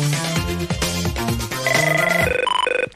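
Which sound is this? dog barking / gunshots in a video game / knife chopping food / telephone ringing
telephone ringing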